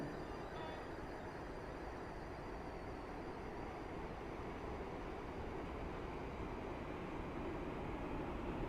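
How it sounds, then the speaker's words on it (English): Steady low rumble of a train pulling into platform 3 at Port Benton station in a video game, a continuous even roar with no voices. "The train now approaching platform 3 terminates here."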